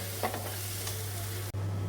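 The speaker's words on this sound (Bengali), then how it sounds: "এইভাবেই গ্যাস কমিয়ে অনেকক্ষণ ধরে এটাকে নাড়বো" A spoon stirs winter khichuri in a pan over low gas: a few short scraping strokes over a soft sizzle and a steady low hum, ending in a brief dropout.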